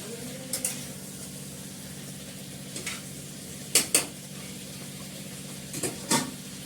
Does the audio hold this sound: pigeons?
no